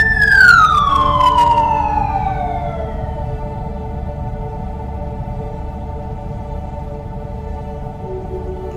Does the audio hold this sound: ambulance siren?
yes